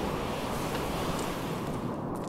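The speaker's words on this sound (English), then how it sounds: "you see that the boat is dropped and water gets into it" A boat dropped into the sea in the game Stormworks, with a dense, steady rush of splashing water and surf-like noise that fills the whole moment, loud and close with no pause.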